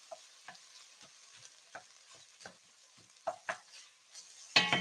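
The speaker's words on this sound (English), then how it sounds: "We're going to give our veggies a stir here." Vegetables for a mushroom, walnut and lentil bolognese are stirred in a frying pan: a soft background sizzle with a series of distinct scraping stir strokes, ending in a louder clatter of the utensil against the pan.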